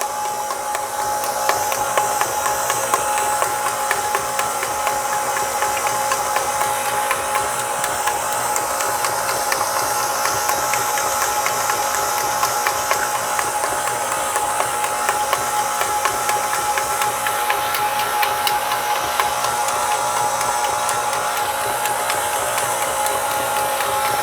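A stand mixer beats cheesecake batter, giving a continuous, even mechanical whir with a rattling motor texture that holds steady and close throughout.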